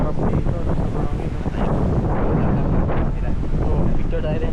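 Strong coastal wind buffets the microphone at Ilocos Norte's seaside near Pagudpud, a continuous low roaring rumble with faint voices underneath.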